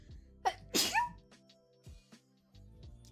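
A single sharp sneeze bursts out close by, preceded by a short intake of breath, followed by quiet stirring in a hushed room.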